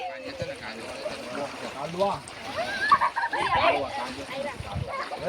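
Water splashing and sloshing close by, rising in bursts, with people talking over it.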